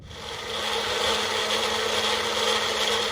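A countertop blender whirs steadily through a smoothie of spiced ingredients, ramping up over the first half second and then holding a loud, continuous churning drone.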